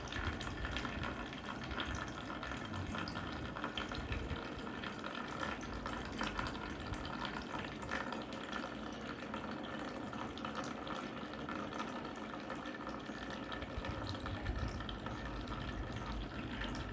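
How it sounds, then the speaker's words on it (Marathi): Water trickling and draining steadily out of a Vasudev cup, a continuous soft liquid flow with faint dripping, moderately quiet and unbroken throughout with no voices. "पाणी सुरू झाले खाली गळणे"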